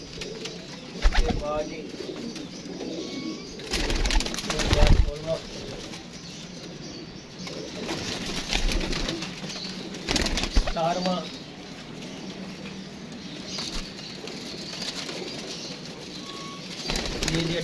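Pigeons released one after another, with soft coos and repeated bursts of wing flapping at intervals, while a man counts aloud over steady outdoor background noise.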